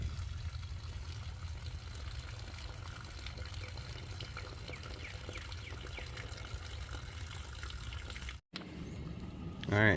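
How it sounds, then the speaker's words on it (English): Fresh water runs into a DIY bulk water distiller as a faint, continuous trickle and splash. A brief dropout and a clunk come near the end. "Kick some fresh water in."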